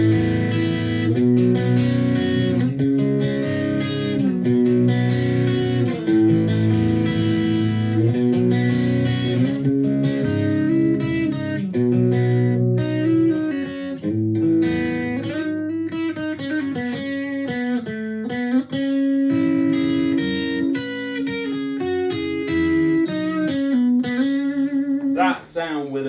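Electric guitar played through a Xotic Effects AC Plus overdrive pedal with the gain set low, giving sustained chords and melodic runs with light grit, loud and continuous.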